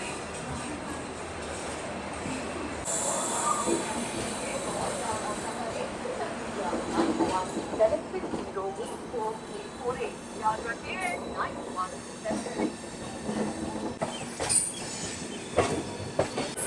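Passenger train departing Kharagpur Junction railway station toward the Bhubaneswar line, heard from inside the coach with steady rumble, clickety-clack of wheels and squealing, while someone talks.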